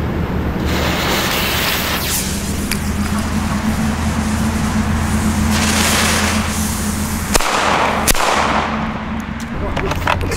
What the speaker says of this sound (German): Schöne Böller mit Vorbrenner, auch hier wieder alles handgearbeitet.